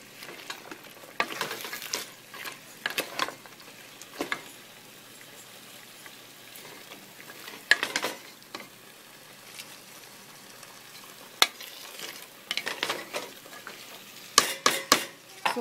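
Vegetables with curd cook in a pan for vegetable biryani, giving a soft continuous sizzle broken by repeated bursts of scraping and stirring from a spoon, close and fairly quiet.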